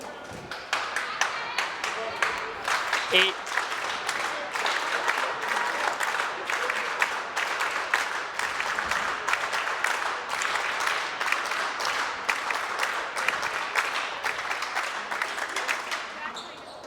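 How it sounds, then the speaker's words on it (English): Crowd at a high school boys varsity volleyball match between Acton Boxborough and Chelmsford claps and cheers steadily, a dense, continuous wash of applause with scattered whoops running throughout, fairly loud and close. "Chelmsford has one of the rowdiest crowds in the state, and they travel well."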